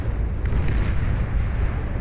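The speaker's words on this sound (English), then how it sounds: "Massive explosion right there. Rocks the core foundation of the Cyan player." Massive explosion in the strategy game Beyond All Reason: a dense, low rumbling blast that stays loud and sustained for about two seconds, with no speech over it.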